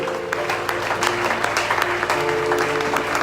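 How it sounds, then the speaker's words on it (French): A church congregation claps in acclamation during a French-language service, steady brisk applause from a crowd that continues for several seconds, with faint voices mixed in. "Acclamons bien la parole de Dieu."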